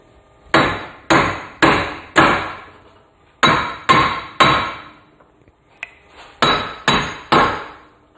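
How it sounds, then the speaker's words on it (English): Sharp metallic hammer strikes in quick bursts of three, pausing, then another three and another set, each ringing out loud and close with no talking, as a hammer beats out a Subaru wheel bearing. "It's hammer time. Let's just beat this out."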